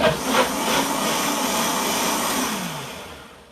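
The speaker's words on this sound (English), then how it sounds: "my Vitamix seems to shoot everything everywhere" A Vitamix blender whirs through a short blend of tomato rice vegetable soup, a loud close motor roar with a dropping pitch that fades as it spins down.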